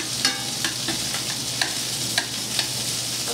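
Shrimp sauté in a pan with a constant close sizzle, broken by several sharp scraping clicks as they are turned with a utensil, and no voices.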